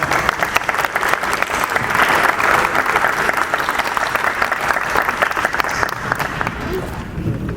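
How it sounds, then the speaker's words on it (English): An audience gives the mayor a big round of applause at a Thursday speaking event: a loud, sustained burst of clapping from a crowd that fades slightly near the end, with voices mixed in underneath. "Y'all give Mayor Langston a big hand."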